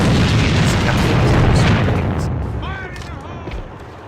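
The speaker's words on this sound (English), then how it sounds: "Grenade straight ahead! Fire in the hole!" A grenade blast in the tactical shooter AVA during a competitive esports match, a loud broad boom that swells and then decays over a few seconds, with faint voices underneath toward the end.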